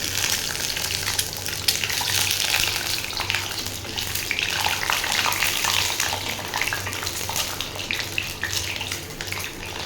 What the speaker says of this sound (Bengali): ডিমটা হালকা করে ভেজে নেব